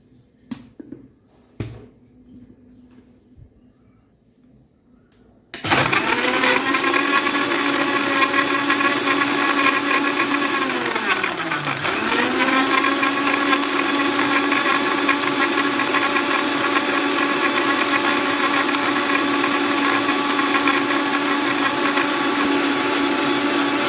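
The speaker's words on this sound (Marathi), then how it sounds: "आता हे आपण मिक्सरमध्ये लावून घेणार आहोत।" A kitchen mixer blending cold coffee with sugar and ice cubes: after a few quiet clicks and handling sounds, the motor starts abruptly and runs loud and continuous, dipping briefly in pitch midway before steadying again.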